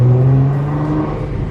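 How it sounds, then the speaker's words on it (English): Nissan GT-R twin-turbo engine revving up close, a loud continuous rising drone with strong low harmonics, steady over a second and a half, no voices. "hear the turbos in this car."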